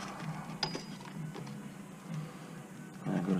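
Serpentine belt tensioner pulley on a 2000-2005 Chevy Impala being loosened with a breaker bar, giving faint creaks, mechanical clicks and a few soft knocks close by.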